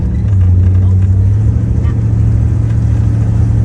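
A 1973 Dodge Charger engine hums loudly and steadily from inside the car as it drives, a deep constant drone with people talking over it.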